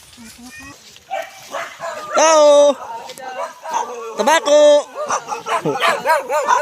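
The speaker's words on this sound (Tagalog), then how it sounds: "Daming aso." Dogs bark and yip close by in short bursts at a resort, mixed with people calling out loudly.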